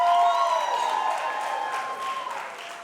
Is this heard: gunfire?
no